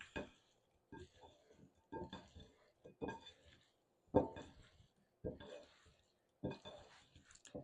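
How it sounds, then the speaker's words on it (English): A salad of watermelon, feta and onions dressed with balsamic vinegar is stirred in a bowl, giving close, irregular scraping clinks and taps of a utensil in bursts, with a pause after each. "I'm going to stir that up"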